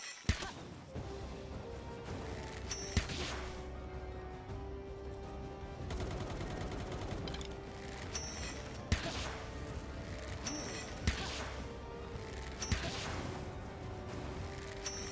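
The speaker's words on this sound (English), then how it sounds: "He's gonna start shooting." Gunfire in the video game Palworld, a steady barrage of shots and machine-gun bursts with sharper single blasts standing out, moderately loud and with no talk.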